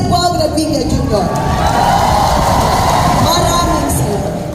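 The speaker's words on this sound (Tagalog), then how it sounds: "isang sigawan para kay Sen Bong Revilla Jr." Crowd at a rally for Senator Bong Revilla in Pamplona, Cagayan, cheering and shouting loudly and continuously, with voices mixed into the roar.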